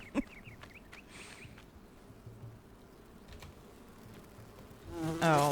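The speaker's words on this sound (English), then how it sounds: "How am I supposed to creep up on people when I'm getting stung by bees?" Bees buzzing steadily around the player in the survival video game Enshrouded, a close droning hum with a sharp tap near the start and a louder rising buzz at the end.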